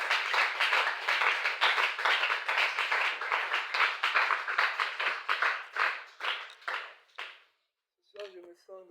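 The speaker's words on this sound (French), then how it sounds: "Acclamons pour le Seigneur Jésus-Christ." Church congregation applauding for the Lord, dense rhythmic clapping that thins and fades out, followed at the end by a brief voice speaking.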